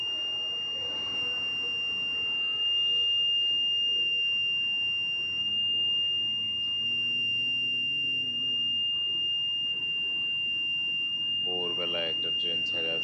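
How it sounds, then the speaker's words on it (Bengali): An electronic railway signal alarm sounds ahead of an approaching train, a continuous high-pitched tone holding steadily throughout, with people talking under it. "এই সিগন্যালটা মূলত আসলে কি কারণে হয় জানতাম না আগে"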